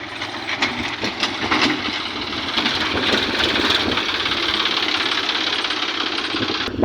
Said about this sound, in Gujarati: તો લોડર આવી ગયું